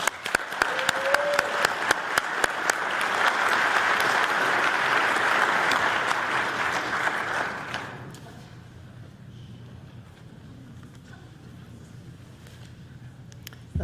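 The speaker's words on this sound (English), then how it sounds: "Let's give them a big hand." Audience at an annual Man of the Year awards event applauding honorees, a steady dense round of clapping that swells, holds, then fades out into quiet room sound.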